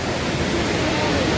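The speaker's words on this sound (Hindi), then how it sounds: "यार इन्ना सोहना लग रहा है वाटरफॉल" Bhagsunag waterfall near McLeodganj roars during the monsoon rain as a dense, steady rushing wash of water that fills the whole moment at close range.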